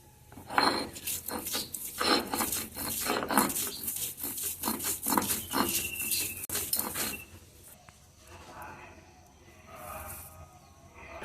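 Fish being ground into paste on a grinding stone, a rough rhythmic scraping and rasping that runs strongly for about seven seconds, then eases into softer, sparser rubbing strokes.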